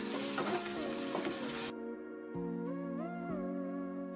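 Ginger and garlic paste sizzles in a hot pan for chicken do pyaza, a bright crackling hiss for under two seconds that then cuts out, with steady background music playing throughout.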